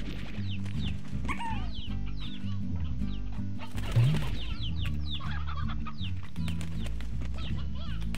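Chickens cluck continuously in a Slime Rancher game level, with wing flaps and a short burst of activity midway, all layered over steady game music.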